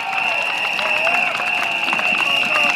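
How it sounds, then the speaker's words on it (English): Audience applause at a Tampines campaign rally, a dense wash of clapping and crowd noise lasting a few seconds, loud and close, with a sustained tone ringing over it. "Let's give a round of applause to all our seniors in our estates."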